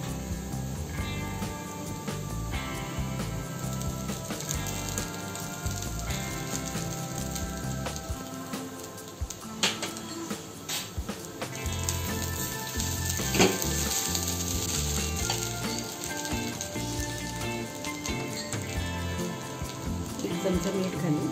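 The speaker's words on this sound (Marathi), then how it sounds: "आता हे आपण 2 मिनिट चांगलं परतवून घेऊ आणि मग त्याच्यामध्ये पोहे ऍड करू" Potatoes and poha for kande pohe sizzle in a pan, a steady crackling fry with occasional scraping stirs, close and continuous beneath a quiet background tone.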